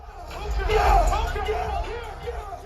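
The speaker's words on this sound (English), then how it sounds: "the crowd erupts in excitement as he enters" A large concert crowd roaring and cheering as the artist takes the stage, a loud swelling mass of voices and shouts that peaks early and stays dense.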